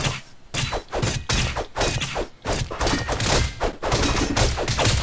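Rapid bursts of gunfire from the Castle Crashers video game, dense and continuous with thumping impacts, loud and close throughout with no talk.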